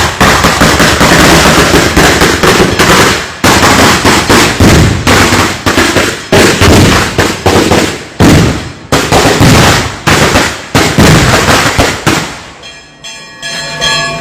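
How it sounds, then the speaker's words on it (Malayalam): Fireworks at a Kerala temple festival: a loud, close, rapid barrage of cracking bursts with short gaps between volleys, tailing off into quieter crackles and ringing at the end. "ഈ വെടിക്കെട്ടിന്റെ സൗണ്ട് അവിടെ കേൾക്കും"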